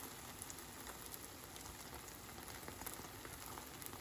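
Omelet eggs frying in a pan, a steady faint sizzle and crackle with tiny pops scattered throughout, continuous and unchanging like light rain.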